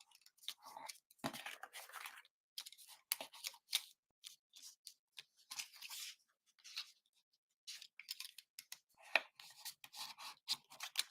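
Scissors cutting through sticky tape, a run of close, crisp snips and crunchy clicks in irregular bursts with short pauses, with no talk.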